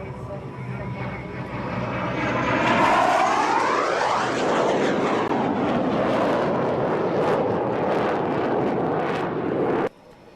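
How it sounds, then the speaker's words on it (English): Aircraft passing at an air show, a loud broad roar with a sweeping pitch as it flies by, holding steady for several seconds before cutting off abruptly near the end. "Look at the lineup of aircraft they have at this air show"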